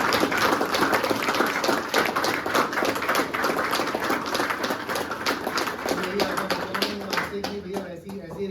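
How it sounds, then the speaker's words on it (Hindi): An audience at a talk on addiction recovery breaks into sustained, dense applause, many hands clapping loudly together for several seconds before it starts to thin out. "एक बार जोरदार तालियां भाई।"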